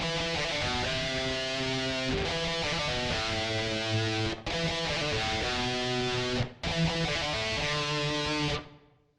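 A distorted electric guitar plays a repeating riff in three phrases, each cut off by short pauses, loud and close with no talking.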